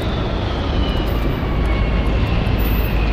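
A spaceship lifts off in the video game Starfield with a loud, dense engine roar that holds steady and full throughout, and a faint high whine rides over the top.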